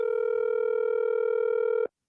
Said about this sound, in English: Hey, the phone ringing, boy.